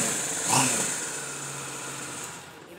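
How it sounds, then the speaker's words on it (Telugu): An entry-level superbike motorcycle engine idles steadily at close range, a faint blip near the start, then a smooth continuous hum until the end. "దీని ఇంజన్ సౌండ్ ఇది"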